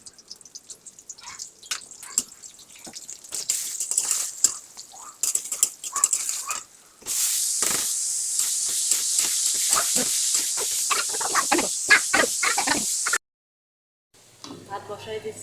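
Hot oil spitting and sizzling in a pan as vegetables go in for a Bangladeshi bhaji, a steady close hiss with crackling pops that starts suddenly and continues strongly before cutting off, with light clatter between.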